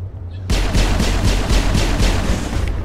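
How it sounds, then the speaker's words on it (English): Rapid automatic gunfire in the sci-fi shooter game Mass Effect, a loud, steady burst of evenly spaced shots that starts abruptly and runs for a couple of seconds. "All I can do is keep shooting."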